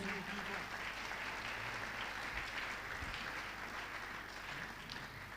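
Steady, dense applause from a church congregation acclaiming God fills the whole stretch, continuous and fairly loud, with a faint hum beneath and no clear words.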